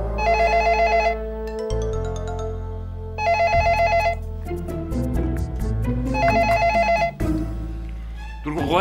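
A telephone rings in a Greek television comedy scene, in three bright, repeated bursts about three seconds apart, with other sounds continuing between the rings.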